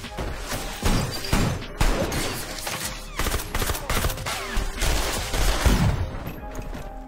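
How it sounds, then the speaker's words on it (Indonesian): Film shootout in which police officers selling weapons are gunned down: repeated bursts of loud gunfire mixed with crashing impacts, rapid volleys spread across the scene with brief lulls between. "Bates yang curiga pun lantas melepaskan tembakan dan membunuh para polisi yang menjual senjata."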